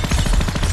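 Rapid automatic gunfire fills a comedy movie scene, loud and close, a fast unbroken rattle of repeated shots.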